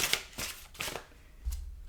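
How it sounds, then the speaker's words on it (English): A deck of quote cards gets shuffled by hand during a pick-a-card tarot reading, with several quick riffling bursts close up and quiet gaps between, no speech. "I'm going to shuffle up my quote cards"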